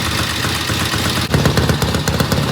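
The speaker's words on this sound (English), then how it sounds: "Man, this bike sounds so good." 1972 Norton Commando Combat motorcycle engine running after a new rotor and stator install, a loud, close, rapid throbbing exhaust with a sharp rev change midway.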